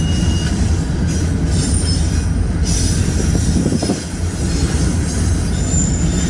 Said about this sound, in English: Very large stack train.